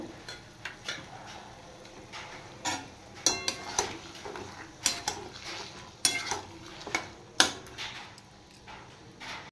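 Chicken pieces sizzle with fried onions in a pot for ghee chicken pulao, a soft fry under irregular clinks and scrapes of a metal spoon stirring against the pan.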